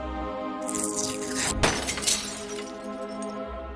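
Stained glass shatters loudly in the game Deponia Doomsday, a sharp crash followed by a bright spray of tinkling shards that fades away over a few seconds, with no talk.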